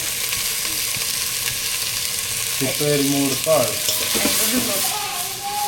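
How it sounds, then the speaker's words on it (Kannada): Sprouted pulses stir-fry in a pan after onions have gone golden brown in a village kitchen, a steady close sizzle with stirring throughout and a brief voice partway through. "ಗೋಲ್ಡನ್ ಬ್ರೌನ್ ಆದ ನಂತರ ಇಕ್ಕಿದ ಕಾಳನ್ನು ಹಾಕಿ"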